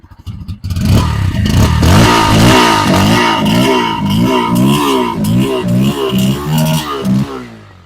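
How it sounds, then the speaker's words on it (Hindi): A Bajaj Pulsar N160 motorcycle with USD forks starts up and settles into a steady, close idle, its loud engine note pulsing evenly with a slight rhythmic wobble and clatter, and no talk over it. "तो बाइक को स्टार्ट कर लेते हैं। ये यूएसडी वाले का आवाज मैं आपको सुना रहा हूँ।"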